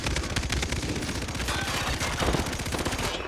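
Rapid, continuous gunfire in Far Cry 3 multiplayer, a dense stream of loud, closely spaced shots running steadily from start to finish with no talk.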